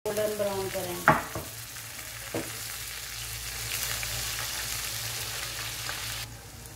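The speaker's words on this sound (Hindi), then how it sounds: "अब मैं इसमें डालूँगी ये लहसुन अदरक का पेस्ट और इनको हम गोल्डन ब्राउन करेंगे।" Garlic-ginger paste and onion frying in a pan for dhaba-style daal mash, a steady sizzle that runs throughout, with a few clinks of stirring near the start.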